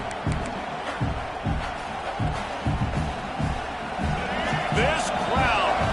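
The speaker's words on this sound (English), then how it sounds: "This crowd, full throat, spreading the eardrums and letting them know it's going to be a long day." A football stadium crowd roars steadily in the background, with thuds and scattered whoops under a commentator's voice.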